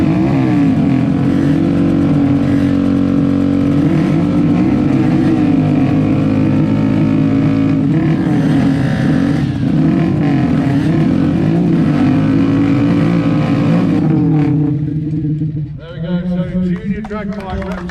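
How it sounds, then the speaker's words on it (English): Junior drag bikes from Santa Pod Raceway start up and idle at a festival at Silverstone, a loud sustained buzzing engine drone with revs rising and falling, over a public-address voice. "start up the junior bikes."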